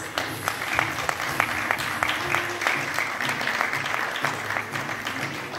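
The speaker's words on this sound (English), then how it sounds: "Can we have a big round of applause?" An audience at a chamber of commerce annual general meeting applauds to welcome a guest, a steady run of many hands clapping at moderate volume throughout.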